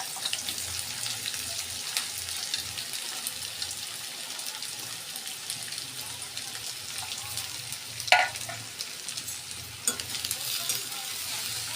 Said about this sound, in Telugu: ఇప్పుడు మనం కాకరకాయలు దీంట్లో వేసుకోవాలి. అన్నీ వేసి వేయించుకోవాలి బాగా.